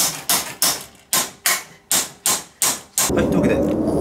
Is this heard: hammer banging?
yes